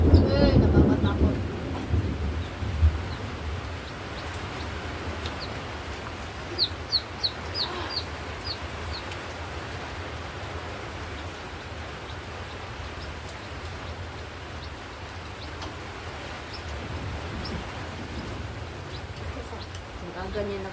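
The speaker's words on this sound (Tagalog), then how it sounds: "Kusog na ulan." Heavy rain hisses steadily throughout, with a low rumble of thunder near the start; chickens cluck faintly in the background and voices speak now and then.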